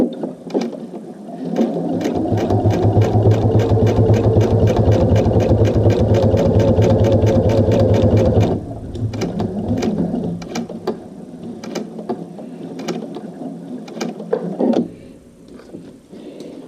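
A sewing machine stitches an adjustable strap for a bag, running steadily for several seconds with a rapid mechanical whir, then pausing and restarting in shorter bursts as the needle is raised and lowered around a curve.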